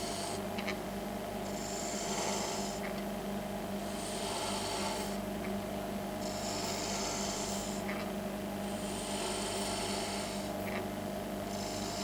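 A half-inch spindle gouge cuts coves into wood spinning on a lathe, making rhythmic rasping passes that rise and fall every couple of seconds over a steady motor hum, fairly quiet, with no talking.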